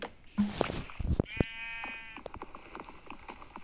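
Sheep bleating in the Minecraft video game: a single clear wavering bleat stands out amid light clicks and soft game sounds, fairly close and alone without talk.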